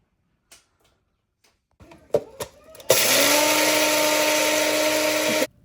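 A kitchen blender grinds homemade coriander powder, starting with a few short bursts and then running in a loud, steady whir for about three seconds before it cuts off.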